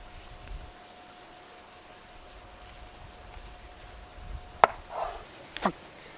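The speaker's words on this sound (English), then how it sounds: "First of all, we're going to cut the top off." A knife slicing the top off a large tomato, two or three crisp, close chopping taps against a cutting board in an otherwise quiet room.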